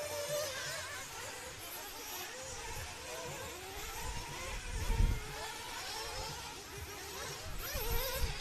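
Nitro RC buggy engine at the EFRA Nitro Buggy Euros 2023 qualifying, racing over rumble strips; a continuous buzzing whine with slight rises, heard at moderate distance over steady outdoor track ambience.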